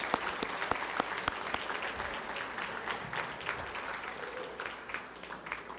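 A conference audience applauds the Bernalillo County Fire Department, with a dense crowd of clapping and some sharper nearby claps standing out, tapering slightly toward the end.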